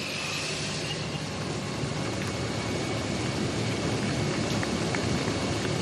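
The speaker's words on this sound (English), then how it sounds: "It starts to rain again, just as they've got rid of those shoe covers and the wet weather gear." Steady rain falls on a road stage of the 2014 Giro d'Italia, a dense continuous hiss of drops with faint vehicle rumble underneath and no voices.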